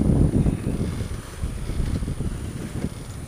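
Steady low wind rumble buffeting the microphone on a sailboat at sea with a tailwind and head swell, whooshing gusts and water sounds beneath, continuous and fairly loud.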